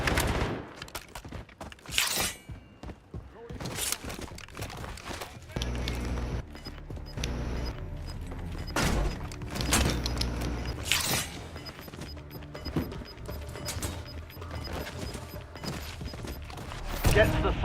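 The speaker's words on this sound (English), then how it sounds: "Ooh, somebody shoots." Gunfire in the video game Warzone comes in loud bursts and single shots, near and far. The shots sit over a steady in-game background with music and effects, and a voice talks over parts of it.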